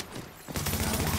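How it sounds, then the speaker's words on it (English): Rapid bursts of automatic gunfire from a video game shooter, sparse at first and then a dense continuous fusillade in the second half, loud and up close with no talking. "He's still shooting."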